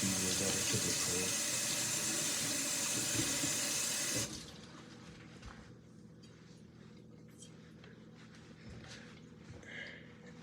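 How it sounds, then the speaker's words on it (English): Tap water runs steadily into a sink while a knife is rinsed, loud and continuous for about four seconds before cutting off abruptly, leaving only faint room sounds. "Why do I wash my knife constantly?"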